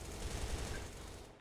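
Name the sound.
gunfire from an HK-like gun in a video game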